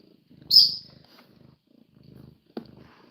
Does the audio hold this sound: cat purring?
yes